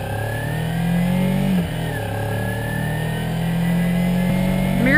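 A 2013 Kawasaki Ninja 300 engine revving hard while ridden, loud and close, rising in pitch with a brief dip around a gear change before climbing again, with no talking.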